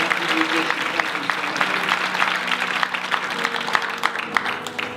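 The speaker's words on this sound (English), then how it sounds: "Give them another hand clap of praise." Sunday morning church congregation clapping hands in praise, a steady mid-level wash of applause filling the room with faint voices mixed in.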